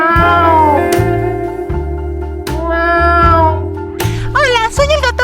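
A cat named Vainilla meows in a few rising and falling cries that stand out clearly over a steady musical backing with a pulsing bass line.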